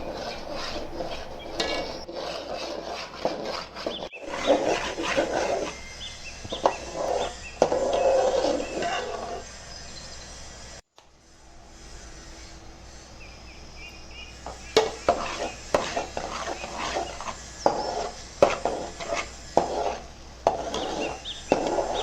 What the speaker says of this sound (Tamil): பத்து நிமிஷம் நல்லா கலர் மாறுற வரைக்கும் கிண்டி விடணும்.